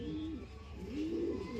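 A pigeon coos in two drawn-out, rising and falling calls over a steady low background hum, with no one talking.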